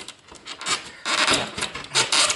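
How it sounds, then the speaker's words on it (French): Plaster around an electrical outlet box is scraped in short, gritty strokes, with a few close, uneven rasping passes and brief pauses between them. "c'est du plâtre, ça se gratte bien"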